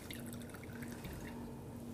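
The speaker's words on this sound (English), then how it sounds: "the water seeps through that hole" Water seeps and drips through a hole in the bottom of a beaker, a faint scattering of small drips and trickles over a quiet background hum.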